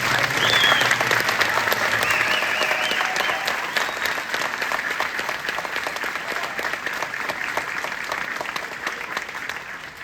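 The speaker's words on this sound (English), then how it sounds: "Families, please recognize these soldiers with a round of applause for all their service." A sustained round of applause from families at a military promotion ceremony for soldiers advancing in rank, steady and even throughout before tapering slightly.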